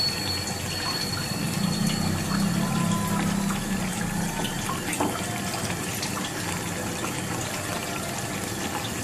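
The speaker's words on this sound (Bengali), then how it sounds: "এটাকে আমি গ্রেভিটাকে উপর থেকে দিয়ে নিচ্ছি" Gravy is poured from above over egg pakora during cooking. A soft, continuous liquid pour and splash runs steadily for about nine seconds at low level, with no talking.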